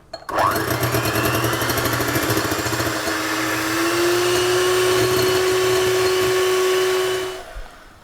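An electric mixer whips egg whites with sugar for a mirabelle plum cake, a loud steady whirring hum that rises slightly in pitch and then shuts off.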